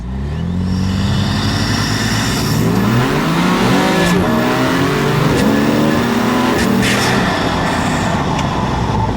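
A BMW M3 with an Akrapovic exhaust accelerates hard with the wheels spinning, its engine revving loudly and continuously through the gears for several seconds, with faint tire noise beneath the roar.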